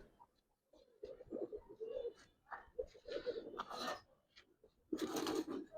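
Giribaz pigeons coo softly in a loft, low throaty calls repeating in short bursts with some rustling, fairly quiet and close.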